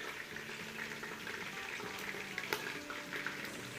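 Nihari masala is stirred and mixed in a hot pan, giving a soft continuous sizzle and frying crackle with faint scraping, heard alone and fairly quiet.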